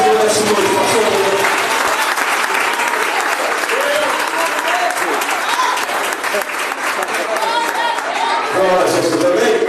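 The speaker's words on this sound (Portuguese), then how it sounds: "Uma salva de palmas para o nosso Senhor essa noite" A congregation applauds during an evening church service, sustained loud clapping from a crowd lasting throughout, with a voice speaking over it.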